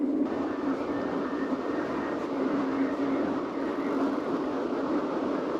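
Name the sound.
train on steam railway line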